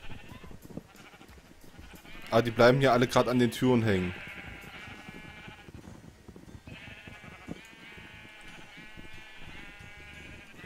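Sheep in Minecraft let out a loud burst of overlapping bleats for about two seconds, with people chatting in German before and after.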